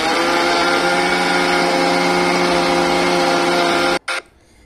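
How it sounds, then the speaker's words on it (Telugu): A mixie grinder runs steadily and loudly, grinding flaxseed powder with chili powder and salt. The motor's whine holds continuous for about four seconds, then cuts off abruptly and leaves a brief rattle as it winds down. "మళ్ళీ ఒకసారి మిక్సీ పట్టుకోవాలన్నమాట."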